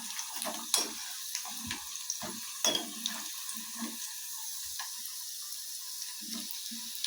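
Chicken pakodi frying in hot oil, a steady soft sizzle with scattered pops and clinks of a utensil, fairly quiet and close.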